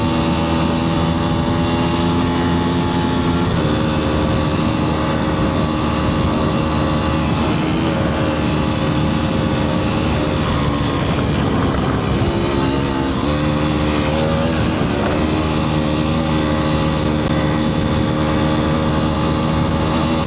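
An Aprilia RX125 motorcycle engine screams at full throttle while riding enduro terrain, a loud sustained two-stroke-style drone with rising and dipping pitch as the revs shift over the run.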